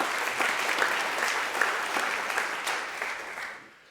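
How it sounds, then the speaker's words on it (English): Audience applause at a Long Beach City College board of trustees meeting, steady broadband clapping from a room of people that holds for several seconds and then fades out near the end. "Please join me in a round of applause for Michael."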